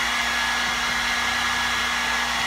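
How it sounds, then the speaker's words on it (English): L'ange Le Volume 2-in-1 brush dryer blowing hair dry, a loud steady motor whir and rushing airflow running continuously without a break. "So that's why I'm still blow drying it."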